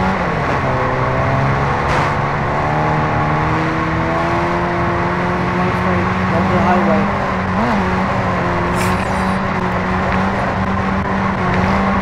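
Car driving along a main road in Call of Duty MW2, a steady engine drone with harmonic whine holding throughout under a speaking voice, slight pitch shifts as it accelerates.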